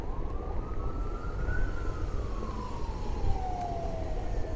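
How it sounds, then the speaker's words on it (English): A police car siren wails in a single slow rising and falling sweep, fairly distant over steady city traffic noise on a street near the White House. "There's a police car coming."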